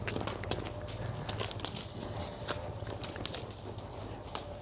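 Horse hooves clip-clop at a walk during a riding lesson, a steady soft rhythm of footfalls over a constant low background rumble, with no one speaking.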